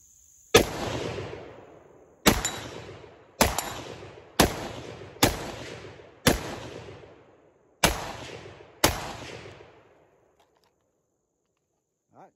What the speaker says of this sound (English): let's take a few shots here with the CTS-1100 Battlesight from Crimson Trace